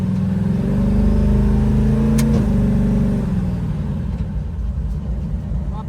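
Twin turbo HEMI car engine revving as it warms up before a burnout, a loud deep rumble that climbs in pitch, drops off, then settles into a steady idle, with someone talking over it.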